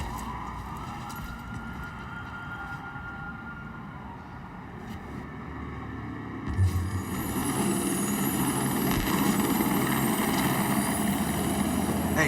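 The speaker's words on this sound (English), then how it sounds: "I do believe that is a helicopter." A helicopter in a video game trailer shown at Ubisoft's 2016 E3 press conference gives a steady, droning rumble mixed with siren-like tones, growing louder and fuller halfway through.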